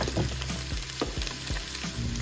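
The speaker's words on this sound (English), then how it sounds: "now I'm adding a little bit of oil to my Instant Pot, and we're gonna throw all the vegetables in" Vegetables sautéing in oil inside an Instant Pot make a steady close sizzle, broken by a few dull stirring knocks in a loose rhythm, with no talking.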